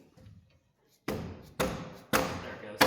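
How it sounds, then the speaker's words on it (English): A dead blow hammer knocks the track back on an RC mower during a roller bearing upgrade, landing four sharp, heavy thuds spaced about half a second apart after a short quiet start. "I'm gonna use a dead blow hammer here to knock it back."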